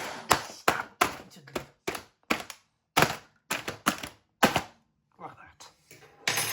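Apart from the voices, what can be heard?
stabbing and tearing the plastic wrapper of an oven chips pack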